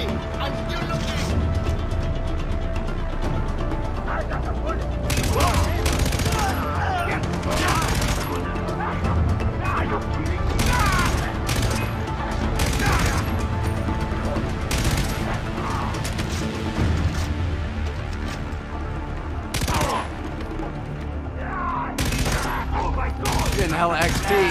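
A light machine gun fires in the video game Far Cry 3. Dense, near-continuous bursts and heavy impacts dominate throughout, broken by sharper crashes, while players talk over the shooting.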